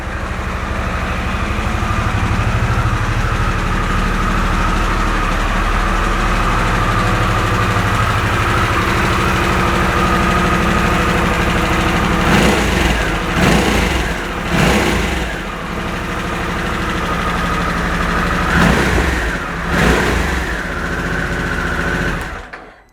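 A new 2023 Harley-Davidson Sportster S motorcycle engine idles close by with a loud, steady throb, broken by a few brief blips of revving before it cuts off at the end.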